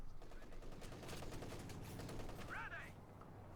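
MG-34 machine gun fire in the WWII strategy game Company of Heroes 2, a dense rattling burst of automatic fire mixed with battle noise and a brief whistling effect, with a commentator talking over it.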